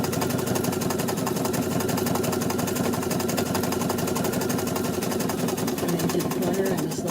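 A sewing machine runs steadily while stitching appliqué, a close, continuous mechanical whir with a fast, even pulse that holds for the whole stretch.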